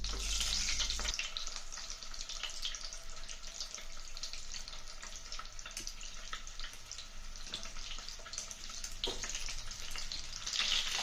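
Boiled eggs fry in hot oil with a continuous soft sizzling hiss, fairly quiet and steady throughout, with a few faint knocks.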